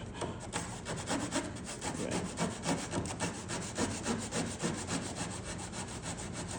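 A rough hand saw cuts through wood for bow-tie inlays on a chamfered table, making close, loud rhythmic rasping strokes repeated steadily from start to finish.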